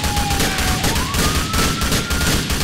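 Dense, loud gunfire rattles continuously in the GTA IV police mod LCPDFR, with a steady tone running underneath.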